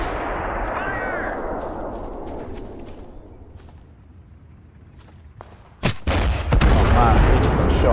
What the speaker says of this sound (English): Whatever that thing is, that has a massive cannon on it.